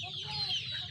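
Farmyard chickens cluck briefly and fairly close while pecking at freshly mixed feed, a short burst of soft fowl calls with no talk.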